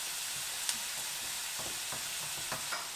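Onion and garlic frying in a pan over lowered heat, a soft continuous sizzle with several light scrapes of a spoon stirring through.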